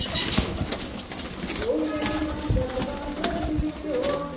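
Malwai pigeons coo close by in low, throaty rolling calls over a busy background of rustling and other birds.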